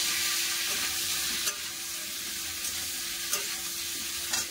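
Cauliflower frying in a pan with salt and turmeric, a steady soft sizzle running throughout with a few faint stirring clicks, close and alone.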